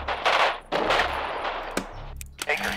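Gunfire rattles in a World War II strategy game with Canadian commanders, bursts of rapid shots and sharp cracks in repeated volleys at moderate distance, with brief pauses between them.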